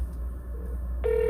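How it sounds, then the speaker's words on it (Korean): Telephone ringback tone during an unanswered outgoing call: a short steady electronic tone starts near the end after a quiet stretch of line noise, alone with no talk. "이 통화 연결음에 벌써 지금 느낌이 와요."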